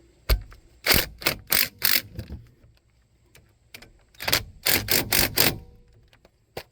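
A ratchet wrench with a 14 mm socket clicks rapidly in bursts while working a front brake bolt on a 2013 GMC Terrain, sharp close ratcheting strokes separated by short pauses.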